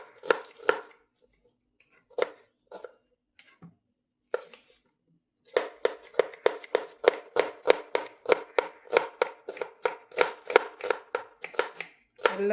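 A kitchen knife thinly slices onions on a board for a party egg masala: close, crisp chops, scattered at first, then a quick steady rhythm with no talking.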